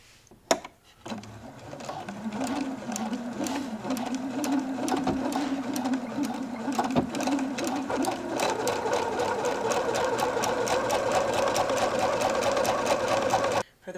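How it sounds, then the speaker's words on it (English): A home sewing machine runs continuously, stitching French seams on garment fabric, its rapid steady needle clatter rising slightly in pitch and speed partway through before stopping abruptly. "I am French stitching all my seams"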